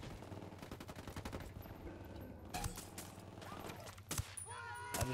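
Rapid gunfire crackles through a Ghost Recon Wildlands firefight, an early stretch of quick repeated shots giving way to scattered louder bursts and sharp single cracks, with voices talking over the action.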